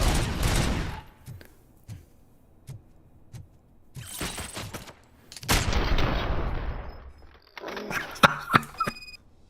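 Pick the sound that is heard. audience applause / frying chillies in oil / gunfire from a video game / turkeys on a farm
gunfire from a video game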